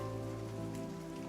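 Steady rain falls in an outdoor setting, a dense continuous patter mixed with a constant low tonal hum, even in level from start to finish with no voices.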